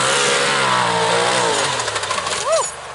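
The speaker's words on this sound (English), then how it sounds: "He was throttling on it a little bit too late." Turbocharged 2021 Velocity side-by-side revving on a dirt track jump: a loud, close engine whine rises and falls in pitch as the throttle is worked, then a quick rev blips up and drops near the end while someone talks over it.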